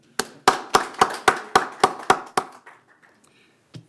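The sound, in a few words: meeting audience applauding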